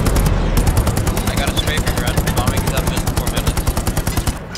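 Tank and infantry fire in the Hell Let Loose video game, as loud, close, rapid machine-gun bursts hammering in a steady rhythm for several seconds with heavy booms underneath.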